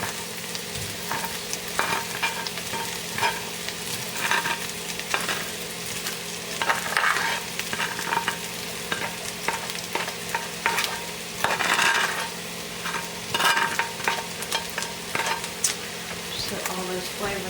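Sausage sizzles steadily in a pan with caramelized onions, and a utensil scrapes and clicks at intervals as it is stirred. A voice speaks briefly in the background.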